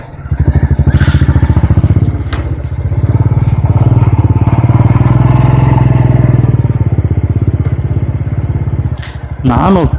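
A motorcycle rides along the coast between Mangalore and Udupi, with sandy stretches. Its engine drones loud and close in an even, continuous putter for the whole stretch, and a voice cuts in briefly near the end.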